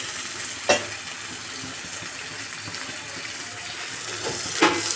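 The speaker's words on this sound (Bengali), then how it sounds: "আলুটা দিয়েও আমরা এভাবে নেড়ে চেড়ে কি করবো, কষাবো" Potatoes sautéing in a pan with a soft steady sizzle and occasional scrapes and clinks of a spoon stirring them, fairly quiet and close, with no voices.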